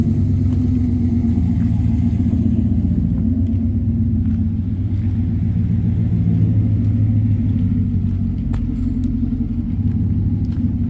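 A pickup truck engine with a MagnaFlow OE catalytic converter and Flowmaster exhaust idles nearby, a deep steady rumble that holds even and loud with no talk over it.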